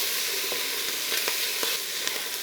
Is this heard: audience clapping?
no